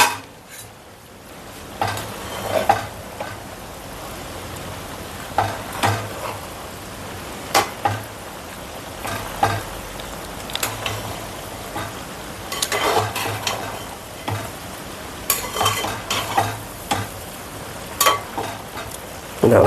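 A spoon stirs avial, a Kerala vegetable dish, in a pan with repeated scraping and clinking strokes in an irregular rhythm over a soft background sizzle.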